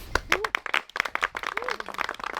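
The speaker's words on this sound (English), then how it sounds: "We just give a massive round of applause for all of the support and hospitality from the venue itself" A small group at a carp fishing competition claps in a sparse, uneven round of applause, close by, with voices speaking through it.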